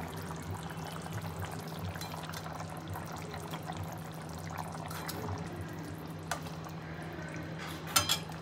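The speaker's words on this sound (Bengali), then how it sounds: "বড়াগুলো দিয়ে দিচ্ছি।" Fried fritters (bora) slipped into a pot of cooking gravy, giving a few soft wet plops and a light splash over a steady low kitchen hum, with no talking.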